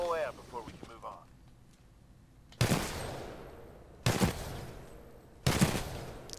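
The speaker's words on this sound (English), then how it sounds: "That's a burst fire." Three loud, separate bursts of weapon fire from a burst-fire gun in Titanfall 2, each volley sharp and close with a decaying tail, after a brief moment of voice and quiet at the start.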